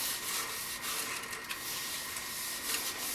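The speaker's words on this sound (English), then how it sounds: "I'm going to continue sanding this now and reapplying oil as I go" Steady, soft abrasive rubbing of sandpaper against a spinning walnut live edge platter on a woodturning lathe, a continuous close hiss with no pauses.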